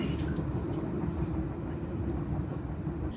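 A newer London tram, unit 2563, rolling along in a steady low rumble heard from inside the car, a constant droning roar with no talk over it.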